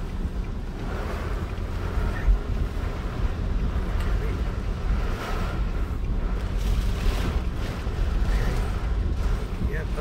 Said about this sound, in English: Okay, so the wind is definitely, we're probably getting tropical storm winds.